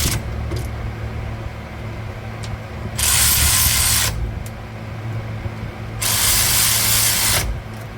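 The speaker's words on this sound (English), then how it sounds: "Ratchet." A ratchet wrench snugs down bolts by hand in a crisscross pattern during differential service on a Dodge D-150 truck, with two loud bursts of rapid clicking ratcheting close by, separated by quieter pauses.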